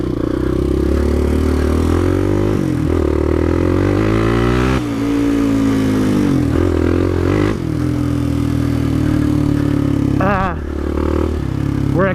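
A sport quad ATV with a twist throttle revs loudly and close up on an off-road trail. The engine pitch climbs and falls continuously through the whole stretch, with voices faintly mixed in.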